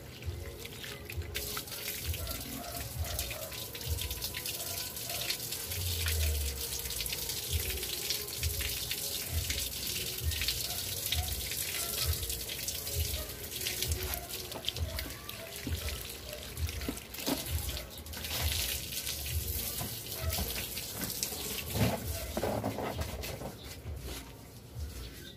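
Water running from a hose or tap and overflowing a plant pot while repotting a variegated hibiscus, a steady soft trickling wash with faint birdsong in the background.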